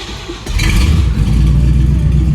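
A GM X-body car engine catches and revs, a short low clatter at first and then a loud, sustained mid-pitched roar that holds steady for the rest of the moment, with no talk over it.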